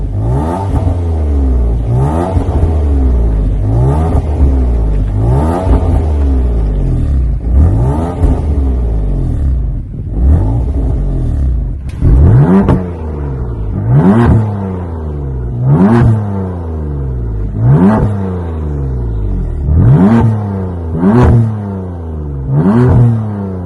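A German sports car engine revs repeatedly with rev matching, loud and close, rising and falling in regular throttle blips through downshifts, with no talk over it.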